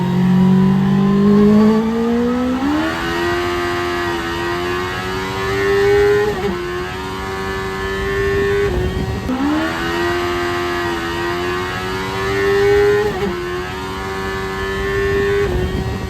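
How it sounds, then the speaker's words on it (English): A CBR 1000-engined turbo Miata under hard acceleration with a slipping clutch, engine note repeatedly flaring upward and hanging high in loud, wavering surges over about sixteen seconds. "Yeah, that would be the clutch slipping"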